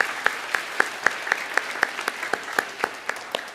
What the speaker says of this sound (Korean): 잠깐 일어서시면 위층과 아래층에 우리 박수로 환영하도록 하겠습니다.